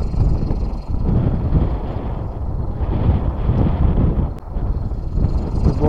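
Strong outdoor wind with falling snow makes a loud, continuous gusty roar buffeting close to the microphone, rising and dipping throughout.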